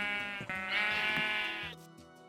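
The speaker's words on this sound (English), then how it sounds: "go get these sheep." Sheep in Minecraft bleat loudly and close by, a harmonic wavering cry around the middle of the short clip plus a few shorter bleats and clicks around it.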